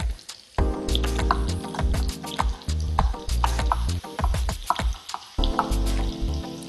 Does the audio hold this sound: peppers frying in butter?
yes